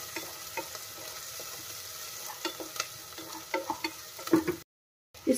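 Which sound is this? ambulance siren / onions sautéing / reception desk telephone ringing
onions sautéing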